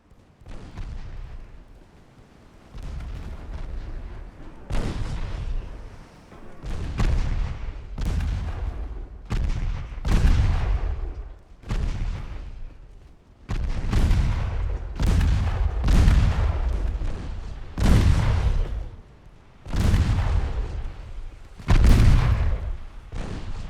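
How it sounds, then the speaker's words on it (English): Naval secondary guns fire at a destroyer in Ultimate Admiral Dreadnoughts, a long series of heavy booming gunshots, some singly and some in quick clusters, each with a rumbling tail, loud and near, with no talking. "Secondary guns can target the destroyer, not the main guns."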